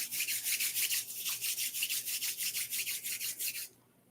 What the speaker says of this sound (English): Now rub the palms of your hands